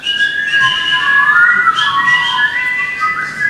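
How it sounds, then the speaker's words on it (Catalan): A person whistles a steady, wavering melody of sustained tones, fairly loud and continuous, with no talking. "Xiular els núvols que passen pel cel."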